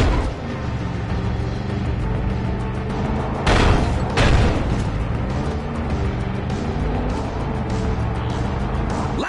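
A landslide explosion in the video game Far Cry 5, with a couple of deep booms rising briefly out of a steady, loud rumble of game sound and music.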